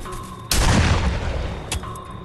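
A single loud gunshot blasts in the Friday the 13th video game, a sharp burst at Jason with a ringing decay, then a second, smaller crack near the end, against a quiet hum.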